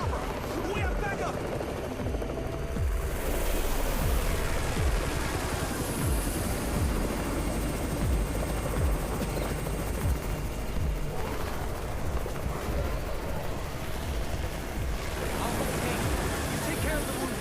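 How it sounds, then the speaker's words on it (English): A helicopter arrives in the zombie survival video game Undawn, a steady broadband rotor roar filling the scene at moderate level alongside crowd murmur and ambient noise. "It's the Raven's chopper! We have backup!"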